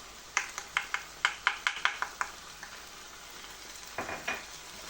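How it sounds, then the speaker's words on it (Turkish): A spoon stirs black pepper, cumin, pepper flakes and salt into musakka filling in a pan, a quick run of about ten close scraping clacks followed by a pause and two softer strokes. "Hepsiyle birlikte şu şekilde bir karıştırıyorum."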